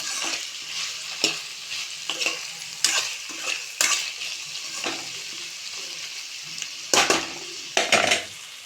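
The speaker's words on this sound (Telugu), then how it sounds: "ఇప్పుడు ఇందులో క్యాప్సికమ్ వేసుకోవాలి క్యాప్సికమ్ వేసుకుంటే ఏంటంటే ఆయిల్లో మంచిగా ఉడుకుతుంది చూడండి" Chopped capsicum fries in hot oil, its continuous sizzle punctuated by about eight firm, evenly spaced stirring scrapes of a spatula against the pan, close and loud with no talking.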